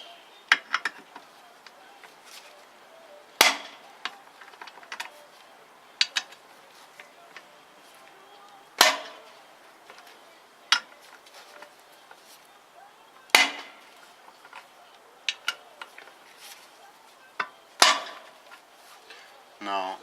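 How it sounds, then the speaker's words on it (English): Impact hammer striking to snug motorcycle crankcase bolts on a Yamaha XJR during reassembly: a series of sharp metallic blows spaced a few seconds apart, some in quick pairs, with light clinks and handling noise between them. "I'm just going to use an impact hammer."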